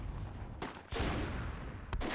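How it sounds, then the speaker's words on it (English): A grenade blast in the battlefield game Myth II Soulblighter, a sudden broad explosive burst with a short rumbling tail, set among ongoing skirmish noise and a second sharp impact near the end. "nice nade there from Scratch."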